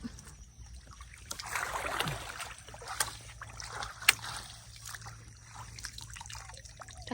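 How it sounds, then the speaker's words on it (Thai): Stream water flows and trickles steadily in a rural Thai setting where snails and fish are gathered, with small drips and splashes over a low, continuous wash, close by and fairly quiet. "น้ำไหลอีหลี"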